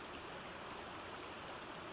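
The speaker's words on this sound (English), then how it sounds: "A tropical downpour of refreshing raindrops, which washed away the heat of the day" Steady tropical downpour with flowing water near a jungle lagoon and waterfall, a dense, continuous wash of rain and rushing stream filling the whole clip without pause.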